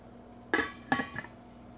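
A metal lid is lifted off a pot of simmering Greek white bean soup, giving two or three quick close clinks and clatters in a quiet kitchen, with no talk.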